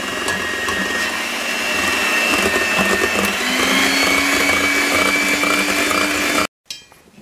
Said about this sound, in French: Je monte ma crème et le mascarpone en chantilly.